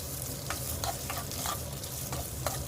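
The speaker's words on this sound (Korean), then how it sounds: "기름 붓고 살살살살 이렇게 볶다가" Potatoes sizzle steadily in hot oil while a utensil stirs and scrapes through them every so often, close and moderately loud.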